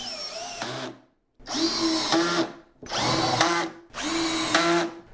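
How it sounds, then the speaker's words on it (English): A power drill drives pocket screws into the wood of a 75-gallon aquarium stand in four close, loud bursts of whirring, each stopping sharply with short pauses between. "I'm just going to use a couple of pocket screws to secure this in place"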